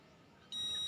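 A multimeter's continuity buzzer sounds on a Sharp microwave oven transformer: after half a second of faint room noise, a steady high-pitched electronic tone switches on and holds to the end.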